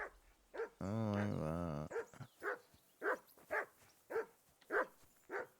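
A dog barks repeatedly in Kingdom Come Deliverance 2, a steady series of sharp woofs after a brief musical tone, with a short exclamation from a player near the start.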